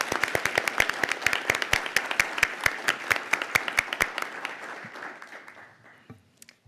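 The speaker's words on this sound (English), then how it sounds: "Can we give everyone, all of the artists, a round of applause?" A council chamber audience applauding local artists, a steady run of close, distinct hand claps that gradually thins out and fades near the end.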